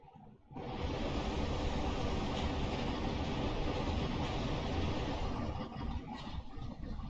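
Steam train running in the video game Train Sim World 2, a loud, steady broadband rumble and hiss that starts abruptly and continues without a break, with no one talking.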